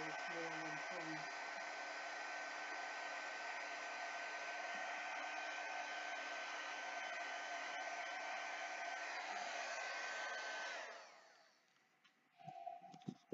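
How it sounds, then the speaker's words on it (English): A handheld dryer used on a Chalk Couture chalk board blows with a steady, even whoosh for about eleven seconds, then switches off, leaving faint handling noises. "The dryer."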